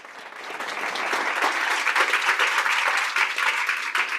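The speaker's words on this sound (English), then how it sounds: "we give you a round of applause." Audience applause for a speaker at a women in technology event, loud dense clapping that swells in over the first second and stays strong and steady, with no voices over it.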